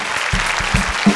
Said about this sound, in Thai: เชียร์ลูกๆหน่อย